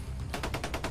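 Rapid gunfire in dense, quiet brush, a quick series of evenly spaced shots rattling off at a moderate distance, fairly faint against a steady outdoor hiss.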